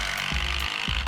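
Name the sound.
impact driver driving screws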